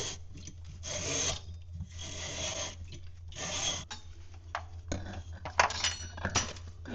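A metal edge on pressure washer fittings being filed smooth, rough rasping strokes in bursts of about a second each, close and moderately loud, followed by a few lighter scrapes and clinks.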